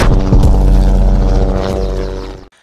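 A loud, close Pakistani military helicopter rotor thudding and whining steadily, then cutting off abruptly near the end.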